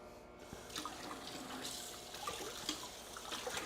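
Hot water runs steadily from a kitchen tap during meal prep, a continuous broadband splashing and trickling rush that stays fairly even and close for the whole stretch, with no talking over it.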